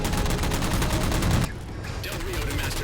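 Heavy, continuous gunfire in Halo 4 as jammers are shot down, dense rattling shots close and loud, briefly dropping away before resuming more faintly with a voice underneath.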